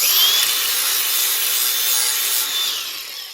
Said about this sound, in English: I'm going to use an angle grinder because I've got it here, nice flappy disc in it